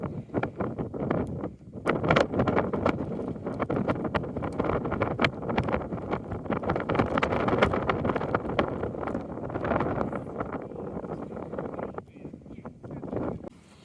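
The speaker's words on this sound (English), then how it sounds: "The wind is strong" Strong wind sweeps the summit of Big Bald, a mountain top on the Appalachian Trail. It roars and buffets the microphone loudly and steadily, with gusty fluctuations and no pauses.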